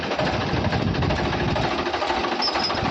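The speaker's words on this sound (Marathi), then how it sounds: "दोन्ही ट्रॅक्टर आता चालू झाले" Two farm tractor engines run steadily nearby in a field, a continuous rhythmic chugging rattle with no talk.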